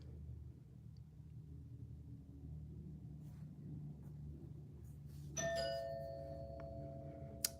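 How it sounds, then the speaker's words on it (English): A household doorbell sounds partway through as a bright, ringing chime with a long sustained tone, heard indoors over a low steady rumble. "My doorbell just went off, but I am not going to get it."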